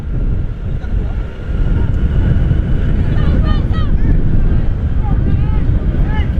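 Strong wind roars and buffets loudly and continuously at an outdoor cycle race, with voices talking over the rushing gusts.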